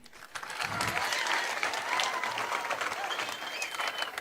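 An audience applauds in a steady, dense clapping that holds for about four seconds at moderate distance.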